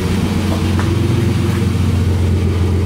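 A BMW E30 engine idling smoothly after a stuck fuel injector was repaired, a steady low, even rumble with all cylinders firing and no misfire, close and continuous with no talk.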